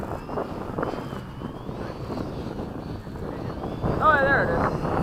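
A Hobby King Avios MiG-17 RC jet on a low battery at full throttle, a rough whooshing whine with a rising pitch sweep near the end, heard against wind and background voices.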